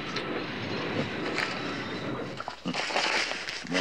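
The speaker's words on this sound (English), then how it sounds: "Train must be stopping for mail or something." Rumbling rail noise with metallic squeals and clatter as a train slows, loud and continuous with a few sharp clanks.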